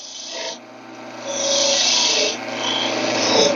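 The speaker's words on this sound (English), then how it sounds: "I'm going to make a couple V-notches" A woodturning tool cuts V-notches into a spinning wooden spindle on a lathe, giving a steady close rasping scrape that swells and eases over a few seconds, with no talk.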